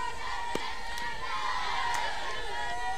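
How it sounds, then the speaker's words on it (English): Crowd noise drifts from the stands at a midweek women's college softball game between Clemson and Charlotte in Charlotte, a continuous murmur of chatter and cheering with occasional sharp cracks, heard from a distance with a voice over it. "Great crowd here in Charlotte."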